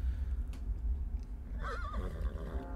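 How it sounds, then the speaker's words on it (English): A horse neighs partway through, a clear rising and falling whinny over steady low background rumble, heard alone with no talk. "Why is there a horse in here?"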